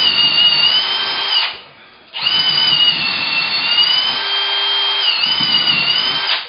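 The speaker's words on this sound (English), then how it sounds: "I just bury the drill all the way in whether you need to or not" A power drill bores into a wooden ceiling joist with a loud, high whine that runs continuously, drops out briefly for a moment, then resumes steadily to the end.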